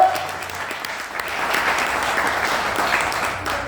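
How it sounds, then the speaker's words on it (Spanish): A crowd breaks into loud, sustained applause, dense clapping that swells and holds steady for several seconds. "Denle un aplauso al Señor por eso."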